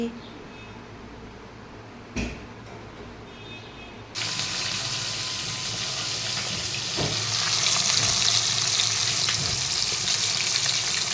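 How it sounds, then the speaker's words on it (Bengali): Fish goes into a hot wok and sets off a loud, steady frying sizzle that rises and stays dense for several seconds, following a quieter stretch with a couple of soft knocks. "এদিকে আমি কড়াটাও বসিয়ে দিয়েছি মাছটা ভাজবো"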